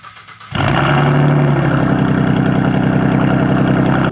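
Ford Mustang fitted with an H pipe and muffler delete roars to life on a cold start, with a brief crank followed by a loud, raspy, sustained high idle that stays close and continuous with no talking.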